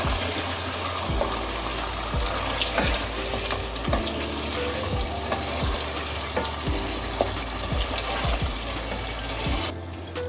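White chicken karahi with cream fries in a pan with a constant loud bubbling sizzle, punctuated by regular scraping strokes as it is stirred and turned.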